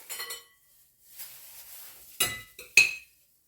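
Khvorost dough, a kefir dough, being cut into strips on a board, with a few sharp knife clicks and taps after soft rustling, all close and fairly quiet.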